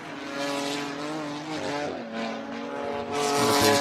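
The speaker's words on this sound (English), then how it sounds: "Jason Hart feeling the heat, just trying to squeeze a little bit more out of the rear tires of that Porsche." GT4 race cars including a Porsche roar past at speed on a road course in Virginia, engines rising and falling in pitch with gear changes, loud and continuous, a second surge of engine noise arriving near the end.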